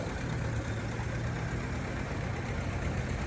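A John Deere 720 two-cylinder diesel tractor in a heritage weekend tractor parade in Lanesville, Indiana, its engine a steady, fairly quiet low rumble heard from some distance with no voices.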